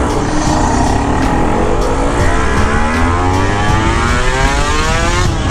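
A Kawasaki ZX25R inline four-cylinder motorcycle engine screams at very high revs, loud and steady throughout. Its pitch sweeps and climbs continuously with no pauses.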